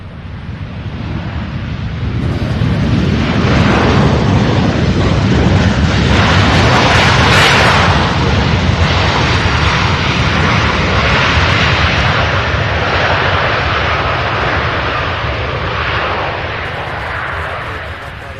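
A heavy jet takes off from runway 17 right at Louisville International Airport with a loud, roaring engine blast that swells, holds with crackling rumble, then slowly fades.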